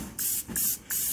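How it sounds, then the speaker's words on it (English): Cooking spray hisses from a can onto hot stainless steel Weber grill flavorizer bars in three short, even bursts with brief pauses between, close and clear with no talking. "I just lightly spray them just to get a nice little coating on it while it's nice and hot."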